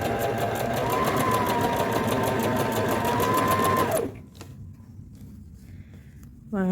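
A sewing machine stitches elastic onto the waistband of trousers in a loud, steady, rapid run for about four seconds, then stops, leaving a few soft handling clicks.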